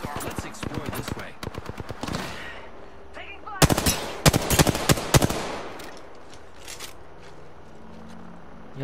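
Apex Legends gunfire in a battle royale match: a rapid automatic burst early, then loud, punchy volleys of close shots in quick clusters, with quieter game ambience and faint voice chatter between bursts.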